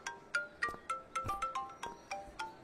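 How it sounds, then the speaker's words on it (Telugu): A mobile phone rings with a bright electronic melody, its short tones repeating in a quick, even rhythm. The sound is clear and alone, with no talk. "అమ్మాయి ఫోన్ రింగ్ అవుతుంది, ఇచ్చాను సార్"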